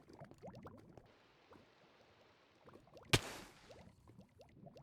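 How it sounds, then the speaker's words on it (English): Bubbles rise from soul sand through water in Minecraft, making soft steady bubbling and gurgling pops with a brief louder splash midway. "As you can see, we're starting to get the bubbles from the soul sand."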